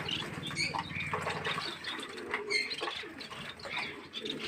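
Pigeons kept in separate enclosures coo softly and steadily, with a faint wing flutter and a trickle of water nearby, fairly close and without any talking.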